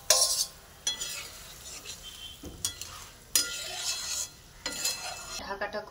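Prawn curry being stirred in a pot with a utensil, several scraping, clinking bursts separated by short pauses over a soft simmering sizzle.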